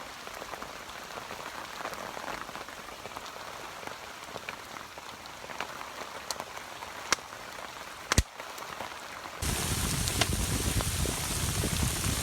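Freezing rain patters steadily on surfaces during a rainstorm, a dense hiss with scattered sharper drops and a few clicks, growing noticeably heavier and louder near the end.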